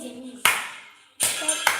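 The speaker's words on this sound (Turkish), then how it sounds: "Arkadaşlar alkışlayacağım şimdi." Sharp hand claps sound close and loud in separate bursts, one early and a pair later, with a young voice speaking faintly before them during a game.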